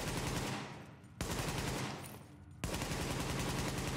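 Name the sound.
Caduceus assault rifle firing at shooting range, video game The Division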